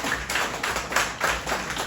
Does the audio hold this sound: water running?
no